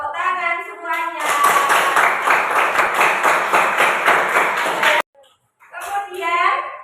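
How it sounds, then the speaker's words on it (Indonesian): A primary school class of fifth graders claps together in a classroom, a dense burst of rhythmic hand claps lasting several seconds, with children's voices before and after. "Tepuk tangan semuanya"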